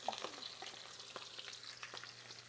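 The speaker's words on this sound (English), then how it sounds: "So I'm just going to caramelize some onions, some scallion." Onions and scallions fry in a pan to caramelize, a soft steady sizzle with a few faint stirring taps, quiet and close, with no talk.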